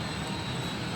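A Celfa Prima cabinet finishing system runs with a steady, loud, broadband whoosh and hum, like a blower or heater drone, continuous without breaks.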